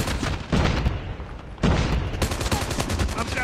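Grenade blast and bursts of automatic gunfire in the mobile shooter Call of Duty Mobile, loud repeated booms and rapid rattling shots filling the mix, with two heavy impacts standing out.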